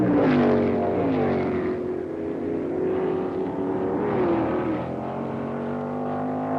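Can-Am race cars at full throttle at Stardust, Las Vegas, in 1968, a loud, continuous engine roar with shifting pitch as the pack passes close by.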